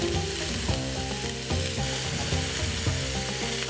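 Chilies, onions, carrots and celery sizzle steadily in a hot pan, a continuous loud frying hiss with occasional stirring knocks and no talking.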